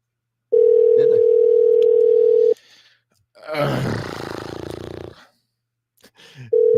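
Telephone ringback tones sound loud and alone: a long steady tone, a pause, a burst of noisy signal, then the tone starting again, a phone call that goes unanswered.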